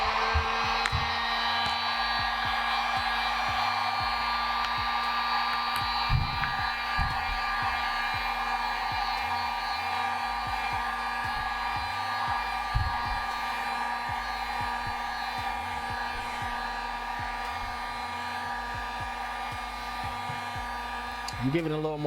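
A hot air blower set on high runs steadily for the whole stretch, heating the screen of a 2013 Nexus 7 Android tablet to loosen it, with a constant close whooshing roar and a few faint handling knocks.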